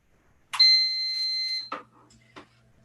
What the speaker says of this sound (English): Good, you get a little beep.